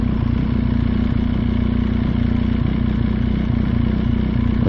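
Motorcycle engine on a road, downshifting into a lower gear while slowing with gentle braking, a loud, steady, close mechanical rumble with even throbbing pulses and no speech.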